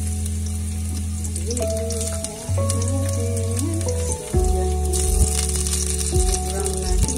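Garlic sizzles in hot cooking oil in a pan while a voice speaks briefly over a steady hum, with occasional clicks and a brighter crackle toward the end.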